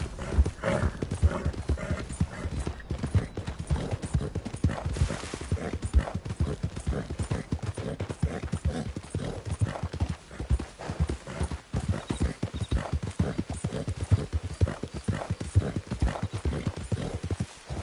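Horse hooves in Red Dead Redemption 2 beat a steady, rapid clip-clop as the horse trots and gallops, close and continuous, with faint game sounds underneath.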